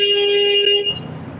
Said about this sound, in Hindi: और पीछे वाले भैया ने हॉर्न दिया हमारी वजह से